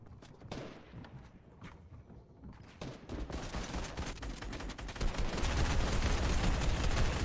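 Rapid bursts of gunfire in a Fortnite trios competitive match, shots ripping through a floor from above, dense overlapping volleys that grow louder and more sustained toward the end.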